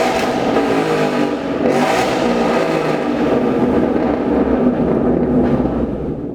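Cars revving their engines at an Import Alliance car meet, a loud, steady roar of several motors with swelling revs and rumble, close by and continuous with no talking.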